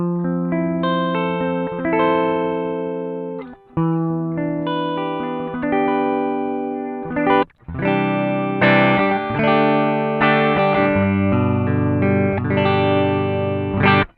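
Clean electric guitar with an Ibanez TSMINI Tube Screamer Mini pedal bypassed, through a Koch Pedaltone tube preamp, plays chords and short phrases, fairly loud and dry with a brief pause partway, no talking.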